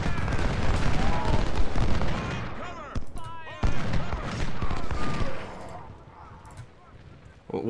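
Musket volleys and artillery fire in the Civil War strategy game Ultimate General: Civil War, a dense, loud battle din of crackling shots and booms that briefly drops away before resuming, with a voice heard over it.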